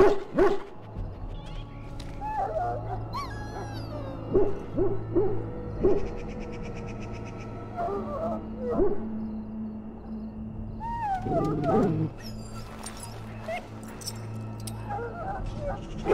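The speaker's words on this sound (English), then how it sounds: "Now I can treat the dog properly, poor fella." A dog whines and yelps in short, high-pitched bursts over a steady low game soundtrack in the fantasy role-playing game Dragon Age: Origins, heard alone without talk.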